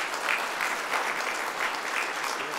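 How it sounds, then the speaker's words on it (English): An audience at a workforce development panel event applauds steadily, a dense, even wash of many hands clapping that holds at a moderate level throughout with no talking over it. "Applause moments are always welcomed."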